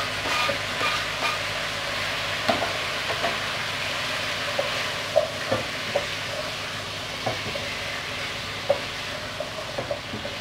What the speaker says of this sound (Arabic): هنديله تشويحه كده مع بعض قبل ما ينزل، قبل ما ننزل عليهم الميه.